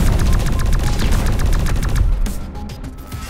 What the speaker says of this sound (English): The aliens are shooting at us!